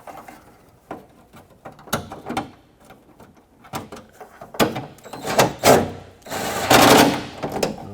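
Bolts are tightened on a hatch window regulator of a 1996–2002 Toyota 4Runner, producing close, irregular metallic clicks and ratcheting bursts that grow busier toward the end.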